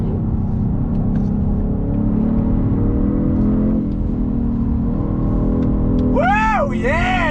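A 2022 Genesis G70 sport sedan accelerating and shifting, heard from inside the cabin as a loud, steady engine drone with slight pitch changes. Near the end a voice cries out with sweeping, rising and falling tones.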